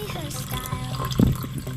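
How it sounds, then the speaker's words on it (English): Water poured slowly into a soil-test container in a soil laboratory, a short splashing trickle with a brief louder gush near the middle, close by. "Fill the container with water until it reaches H1 mark and put it slowly so soil won't come out from"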